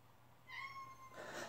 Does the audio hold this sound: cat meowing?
yes